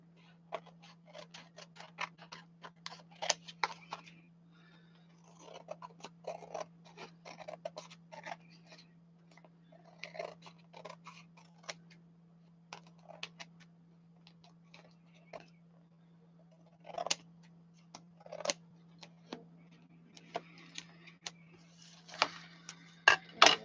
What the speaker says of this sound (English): now I'm going to trim this carefully